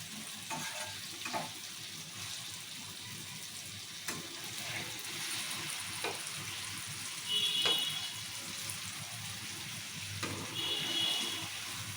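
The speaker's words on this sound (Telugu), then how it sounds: "పన్నీర్ అయితే ఫ్రై చేసుకోవాలి మంచిగా సో ఈ విధంగా ఫ్రై చేసుకోవాలి పన్నీరు" Paneer pieces frying in a pan for paneer masala, a soft continuous sizzle with occasional clinks and brief scraping as pieces are moved, fairly quiet and without speech.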